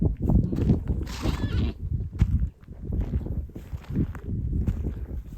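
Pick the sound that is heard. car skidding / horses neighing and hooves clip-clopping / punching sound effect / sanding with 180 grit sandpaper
horses neighing and hooves clip-clopping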